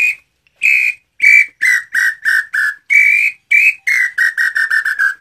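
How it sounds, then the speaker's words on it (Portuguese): A handmade whistle of black angico wood blown in a run of short, shrill bursts, a few long toots followed by rapid repeated chirps, loud and close with no talking. "Um apito bonito, rapaz."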